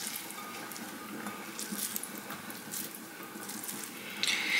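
Tofu skin strips are rinsed under a running tap, a steady close splash and gush of water with no talk.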